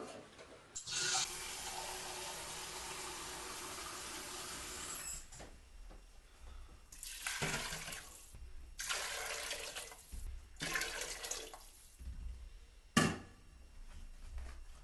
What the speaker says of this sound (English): We're going to start by adding 6 cups of water.